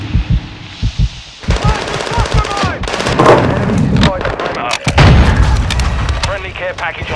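Rapid automatic gunfire and booming blasts from the video game Call of Duty: Modern Warfare II sound loud and close in dense bursts, with game voice lines and a player talking over the action.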